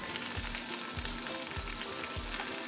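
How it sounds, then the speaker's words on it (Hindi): Sabudana cutlets frying in oil until crisp, a continuous soft crackling sizzle with quiet low thumps recurring roughly every half second, fairly faint and without voices. "और अब हम इन्हें करारे होने तक सेक तलेंगे।"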